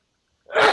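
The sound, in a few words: sneeze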